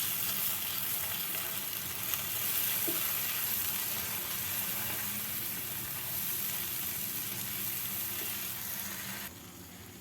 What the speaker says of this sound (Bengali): মশলাগুলোকে এবার আমি নেড়ে চেড়ে ভালো করে ভেজে নিব